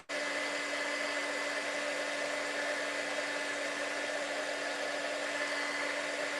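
A heat tool for card embossing blows steadily with a constant whirring hum and airy rush, close and loud, running unbroken from start to end with no talk.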